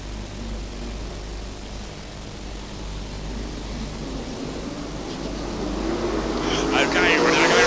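Super sedan race cars at a speedway roar past in a steady engine drone that swells louder toward the end, heard from a distance under a commentator's voice.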